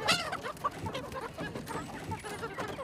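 Young chicks in a brooder at a mountain-village chicken farm cheep continuously, a dense overlapping chorus of high chirps close to the microphone with no talking.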